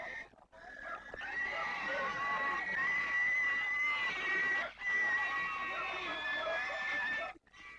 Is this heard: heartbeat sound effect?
no